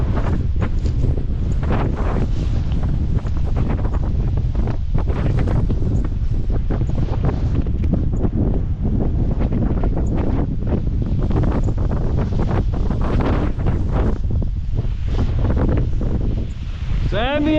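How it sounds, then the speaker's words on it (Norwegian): Strong wind of about 10 to 12 metres per second on a river in the Thelon area roars and buffets the microphone nonstop while paddling, with a loud, constant rumble and gusty surges. "Det er mye vind."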